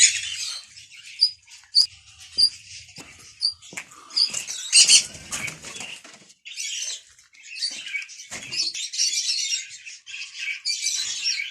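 Chickens and ornamental poultry at close range, with a busy mix of squawks, clucks and sharp chirps, bursts of flapping wings, and a dense cluster of calls near the middle, all without any talking.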